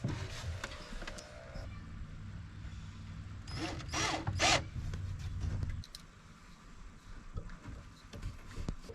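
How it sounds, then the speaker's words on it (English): A screw is driven into a panel inside a 2020 RAM Promaster City van conversion, a few seconds of whirring and ratcheting tool sound amid low background noise. "So now I just gotta screw it in."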